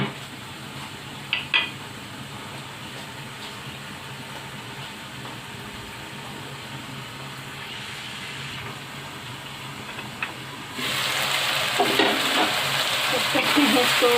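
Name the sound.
onion and chicken frying in pan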